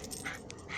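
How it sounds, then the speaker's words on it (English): A neighbor's dog outdoors gives a few short, thin whimpering yips and rapid panting, fairly close and moderately loud over a steady background. "this is what happens when you have a neighbor with a dog and you have a dog."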